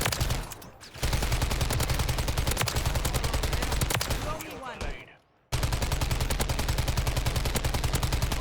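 A Taq Eradicator light machine gun fires in Call of Duty: Modern Warfare III with long, rapid, loud bursts of automatic gunfire. The fire breaks off briefly around the five-second mark and then resumes just as intensely.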